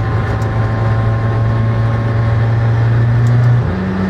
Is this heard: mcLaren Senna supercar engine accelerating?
yes